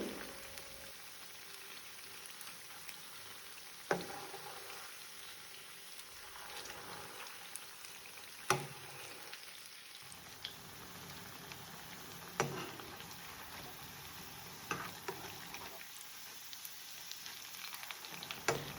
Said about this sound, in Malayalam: ഇതിൻ്റെ ഒരു ഭാഗം ഒന്ന് ഫ്രൈ ആവുന്ന സമയത്ത് നമുക്കിത് തിരിച്ചിട്ട് കൊടുക്കാം.